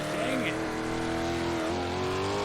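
410 sprint cars race around a dirt speedway during an International series event, with a steady loud engine drone and shifting pitch as cars pass, while a commentator talks over it.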